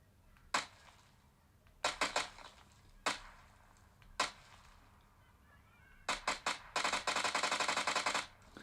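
Gunfire in the PUBG battle royale game: a few isolated sharp shots, then a short cluster, more single shots, and finally a dense rapid burst of automatic fire near the end, loud and close with no talk.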